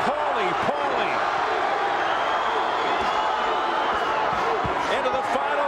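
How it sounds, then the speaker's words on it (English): Arena crowd at a WBA bantamweight championship boxing bout, Tapia vs. Ayala, roaring and chanting fighters' names in a dense, continuous wall of noise, with a commentator talking over it. "The crowd chanting, Johnny, Johnny."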